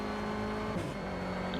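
Renault Clio Cup race car in Project Cars at Donington, a steady close engine drone with a brief whoosh partway through.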